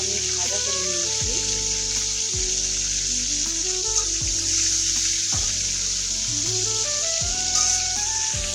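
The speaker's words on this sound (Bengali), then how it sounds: "সজনে ডাঁটাটা যতক্ষণ না একটু লাল হচ্ছে ততক্ষণ পর্যন্ত আমি ভাজা করে নিয়েছি" Drumstick (sajne data) frying in oil in a pan until lightly reddened, a steady close hiss and sizzle running throughout beneath background music.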